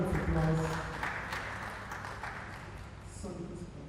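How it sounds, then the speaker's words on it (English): Scattered audience applause in a hall during a ceremony's roll of name announcements, fading over a few seconds with faint voices beneath. "Round of applause."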